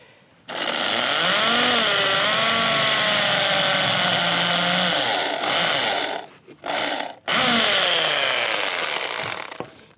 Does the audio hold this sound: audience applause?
no